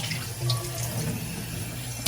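Water running from a tap into a frying pan in a home kitchen, a soft continuous splashing stream that stays fairly quiet and close, with no talking.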